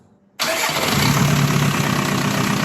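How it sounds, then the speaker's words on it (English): After a brief quiet moment, a Volkswagen Mk4 TDI diesel engine cranks and catches abruptly, settling into a loud, steady, rough idle close by. "I'm going to start the engine and let it run for a few minutes"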